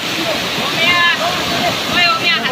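A waterfall's steady roar of falling water fills the scene, with a voice talking over it.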